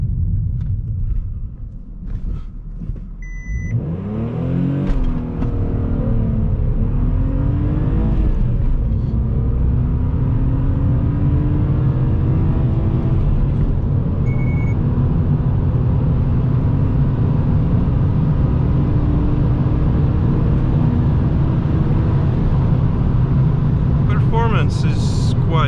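BMW E46 328ci accelerating hard on an open road, a loud close engine roar climbing in pitch through the gears with a short dip at each shift, then holding a steady high drone, with someone talking over parts of it.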